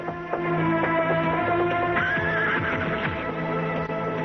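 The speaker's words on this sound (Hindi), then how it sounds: "ये तो बद्रीनाथ जी का घोड़ा है।" A horse neighs loudly and close in a 1994 Hindi adventure drama, its whinny running as a long, wavering call over a steady background, with no talk over it.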